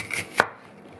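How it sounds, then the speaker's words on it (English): A Morgan chef's knife slicing half an onion thinly on a board, making one sharp, close chop followed by quiet. "so that half an onion there is sliced really thinly"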